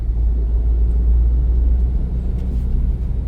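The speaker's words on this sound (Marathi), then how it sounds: "आपल्या समोर एक गाडी येते" Car driving along a road on the way to a resort, a heavy low rumble of engine and tyres that stays loud and steady from inside the vehicle, with no voices.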